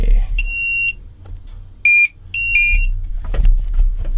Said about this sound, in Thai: GPS ดัง